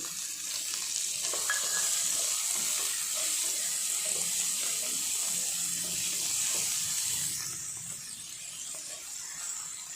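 Chopped onions sizzle in a hot pan with a steady, bright frying hiss and a few faint clinks, the sizzle easing slightly near the end.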